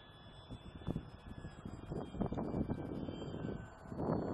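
Gusty strong wind buffeting the microphone at a model airplane flying field, uneven rumbling bursts rising and falling, with faint high electronic tones in the background.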